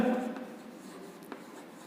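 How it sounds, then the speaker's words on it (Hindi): Pen or pencil handwriting a definition during a regular-polygon geometry lesson, a soft close scratching that fades after a louder first stroke, with no clear talk. "तो डेफिनेशन लिखते हैं"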